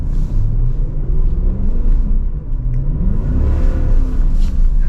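A Mercedes E63 AMG W211 driven in winter snow growls steadily, its engine rising and falling through revs, a continuous close rumble with no voices.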